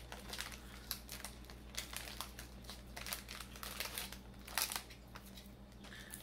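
Small box opener slicing and tearing into a crinkly Roshen Konafetto cocoa snack package, with close, quiet plastic crinkling and rustling bursts over a low steady hum.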